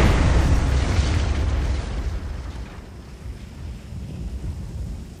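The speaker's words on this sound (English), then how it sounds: "Alpha Tool units, we are now detonating in 5, 4, 3, 2" A heavy explosive detonation in ArmA set in Afghanistan, a loud booming blast at the start that rolls and decays into a long rumbling tail with wind-like noise.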